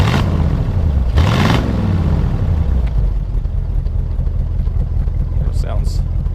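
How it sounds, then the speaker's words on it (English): A 1937 Ford Cabriolet custom car's engine idles steadily with a short rev that swells and falls back early on, then settles to a low rumble, close and continuous throughout. "Go ahead and rev it up a little bit."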